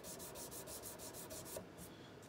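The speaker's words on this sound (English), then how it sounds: "Do a little bit of sanding here." Sandpaper rubbing on a part of a Taylor 12-string guitar during a setup, steady repeated strokes in an even rhythm, close and fairly loud, with no voices.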